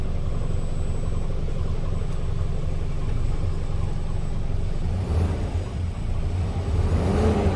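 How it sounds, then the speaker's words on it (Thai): Low-slung 12-wheel manual-gearbox truck with a 6UZ engine, revved under the accelerator, giving a steady, loud low rumble that swells briefly near the end. "แล้วเหยียบคันเร่งที แต่ว่าเงียบดีมากเลยอะเงียบฉี่เลย"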